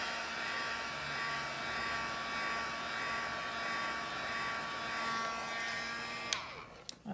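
A hair dryer blows steadily and close by for about six seconds, drying a freshly painted first layer of string art, then cuts off near the end with a couple of handling clicks.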